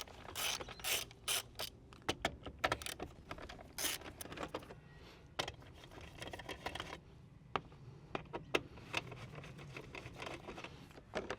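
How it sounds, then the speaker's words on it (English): An 8mm socket wrench works loose the bolts on the top cover of an old Victa lawn mower, making quiet intermittent ratcheting clicks and small metallic taps with pauses between turns. "So we've got an 8mm socket here. It's going to undo this top cover."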